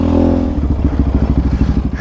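Yamaha Raptor 700 ATV engine running loud and close while riding, a steady low rumble of rapid pulsing firing beats after a brief smoother hum at the start.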